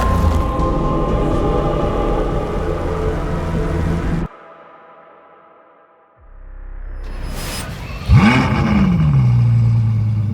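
Ferrari engine revving, a dense roaring drone that cuts off abruptly into near silence, then builds back and climbs into a sharp, loud rev with a sweeping pitch change.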